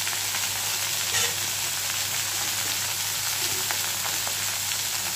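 Bottle gourd leaves frying in a pan give off a soft, even hiss that runs steadily at moderate volume, with nobody speaking.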